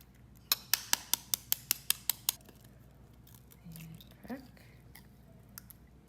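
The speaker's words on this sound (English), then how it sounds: "I'm gonna just beat the eggs into the sugar and butter." Eggs are beaten into sugar and butter for banana bread batter, heard as a quick, even run of about nine sharp taps against the bowl, followed by softer scattered clinks and faint mixing sounds.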